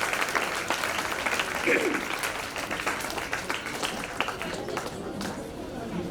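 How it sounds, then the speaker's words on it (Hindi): An audience at a chief guest introduction event breaks into sustained applause, a dense steady wash of clapping that holds for about six seconds with a faint voice underneath. "जोरदार तालियों से अश्लेषा सावंत जी का स्वागत कीजिए"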